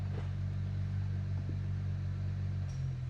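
A BMW 335i engine idles with a steady low rumble and hum that holds nearly unchanged throughout, close and continuous, with no voices.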